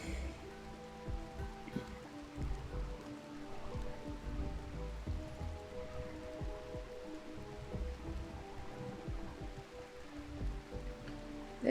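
Steady, soft rain falling indoors in the video game Rimworld, a continuous patter of drops at low volume with no talking.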